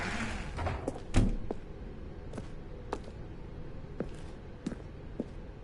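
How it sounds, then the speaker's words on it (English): A door in The Stanley Parable opens with a louder knock or clunk, followed by soft, evenly spaced footsteps in a quiet interior. "Stanley walked through the red door"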